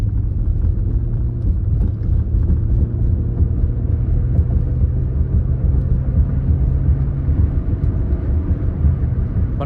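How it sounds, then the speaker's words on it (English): A 1992–2000 Lexus SC 300/SC 400 drives through city streets, its engine and road noise forming a steady low rumble heard from inside the cabin, with no talk. "For the first part of the test drive, we'll drive the car through the streets."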